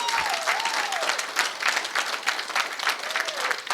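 Audience applause fills a hotel ballroom after a presentation at a corporate awards event, dense and sustained clapping from a sizable crowd with no pauses throughout.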